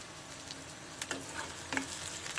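A steady, fairly quiet sizzle of frying in a pan for mess-style chicken curry, with a few sharp scrapes and ticks of stirring over the constant hiss and no talking.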